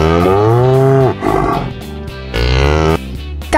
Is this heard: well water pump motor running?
no